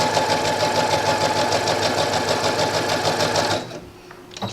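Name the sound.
sewing machine sewing a regular seam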